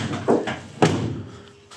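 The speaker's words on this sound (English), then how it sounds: "even if I close the door behind me right now" A van's side door is pulled shut with a solid thunk, followed by a second knock and some rattling close by, with no voices.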